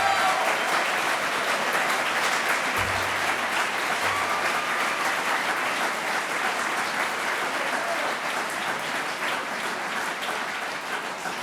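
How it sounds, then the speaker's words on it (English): Sustained audience applause fills a hall during a 2017 State of the City address by Mayor Lovely Warren, a dense, steady clapping that holds evenly for about eleven seconds with no voices over it. "Thank you for that round of applause"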